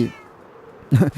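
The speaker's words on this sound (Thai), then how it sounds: "เสียงแมวร้อง" A single short cat meow from the video game Minecraft, sounding abruptly and loud at the end after a quiet stretch.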